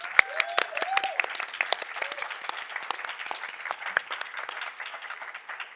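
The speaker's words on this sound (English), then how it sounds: "Can we get a round of applause for them first" An audience at a COP28 hangout event breaks into lively applause, dense clapping with a few whoops and cheers rising over it, sustained throughout.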